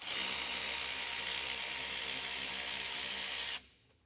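A 10 mm battery terminal nut on a Tesla Model Y is loosened with a powered tool that whirs in a steady, loud, close drone for several seconds before cutting off abruptly.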